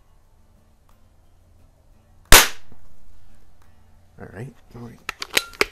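A single sharp Beeman P17 air pistol shot cracks out nearby, decaying quickly, followed by some light handling clicks and a brief spoken remark.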